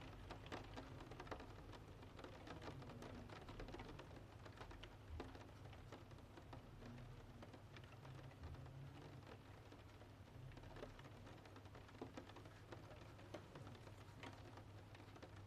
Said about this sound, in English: The rain moves softly over the roof.